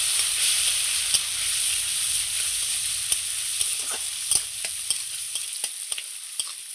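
Soaked Gobindobhog rice, chopped onion and a bay leaf frying together in an oiled pan, a constant loud hiss of sizzling with intermittent scraping clicks of a stirring utensil, no talk.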